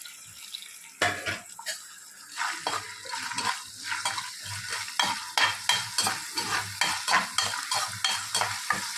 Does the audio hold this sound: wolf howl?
no